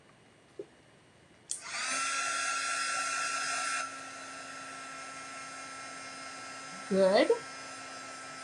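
A handheld heat tool or dryer blows on a wet stencil, switching on with a click into a steady high whine for about two seconds, then a lower hum continues, and a voice speaks briefly near the end.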